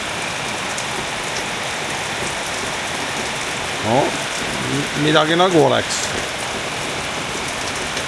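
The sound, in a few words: rain falling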